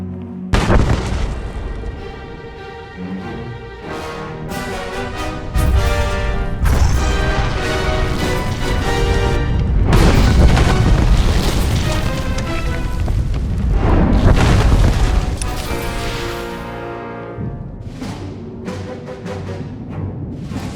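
A loud, sprawling explosion in Star Wars: The Old Republic rumbles with deep booms, crashing debris and layered blasts that swell and fade over many seconds, backed by dense game sound and no speech.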